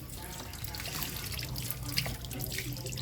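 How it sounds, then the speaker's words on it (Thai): Tap water runs steadily into a kitchen sink while shrimp are rinsed one at a time, a continuous close splashing stream with small drips and clinks. "ก็จัดการล้างล้างล้างล้างคูออน ล้างทีละตัวเลยครับ เอาให้สะอาดเต็มที่ไปเลย"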